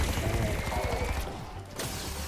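Rapid bursts of video-game gunfire from a Wraith Fire weapon rattle steadily through most of the stretch, stopping briefly before resuming, with no talking over it.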